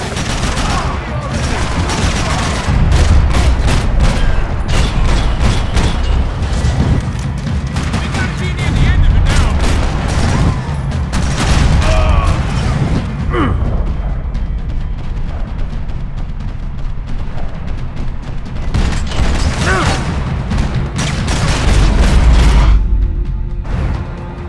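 Dense gunfire fills a Max Payne 3 firefight, with rapid bursts and single shots cracking almost without pause, loud and close, while voices break in now and then.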